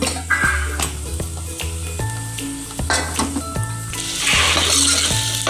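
Onions and chopped kantola (spiny gourd) sizzle steadily in a hot pan for an Indian vegetable dish, with repeated scraping stirs and light metallic clinks of the spoon against the pan.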